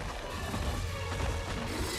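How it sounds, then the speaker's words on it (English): Heavy smashing impacts from a Garangolm monster battering enemies in Monster Hunter Rise: Sunbreak, loud, dense and continuous crashing thuds over a busy game mix with no clear pauses. "He's already smashing these fellas."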